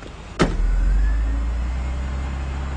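A car in GTA San Andreas gives a sharp click and then a steady low engine idle that hums on, close and fairly loud.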